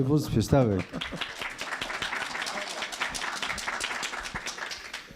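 Audience applause at a conference discussion panel on a project summary, a dense steady patter of many hands clapping that rises right after a short burst of speech and carries on evenly throughout.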